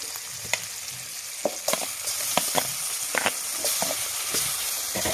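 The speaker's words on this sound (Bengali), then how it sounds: "এখন আমি দিয়ে দেবো নুন হলুদ মাখানো মাংসটা।" Meat marinated with salt and turmeric sizzles and fries in a pan with tomato, a steady close crackle broken by scattered pops and spatters, no talking.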